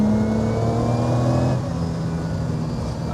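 A Lamborghini Miura's engine revs loudly and close up as the throttle opens, then settles into a steady roar. There is no talk.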